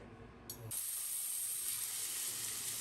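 About two tablespoons of olive oil with a teaspoon of garlic in a sufuria over low heat: a soft, steady sizzling hiss starts after a brief pause and runs on evenly and quietly.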